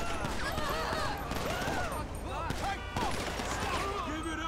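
Gunfire rings out in GTA V during a police-mod chase, several sharp shots scattered across the clip amid overlapping voices and game sounds.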